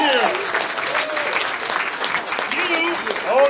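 Audience applause at a furry convention charity improv show, loud, dense clapping held steady throughout with a few voices calling out over it.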